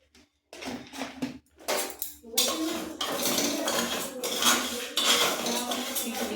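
Mung dal and nuts frying for khichuri, a metal spoon scraping and clattering around the pan nearby in quick repeated strokes over a low sizzle, after a brief quiet start, no voices.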